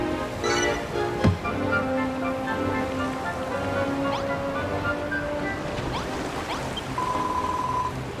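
A restored river flows in the video game Dragon Quest Builders 2, a steady rushing wash of water that runs throughout, with a few soft tonal game chimes layered on top.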